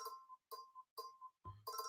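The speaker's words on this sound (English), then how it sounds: "My phone ringing." A mobile phone ringtone chimes in short, evenly spaced tonal bursts, faint and repeating about twice a second, with no one talking over it.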